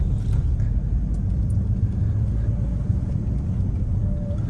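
Road traffic passes near a roundabout as a continuous low engine rumble, steady and moderately loud, with no distinct horns or voices standing out.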